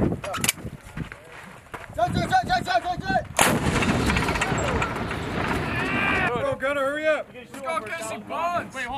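Field artillery fires during a mortar and artillery live-fire exercise, one loud blast with a long rolling echo that carries on afterward, amid shouted commands and talk from soldiers before and after.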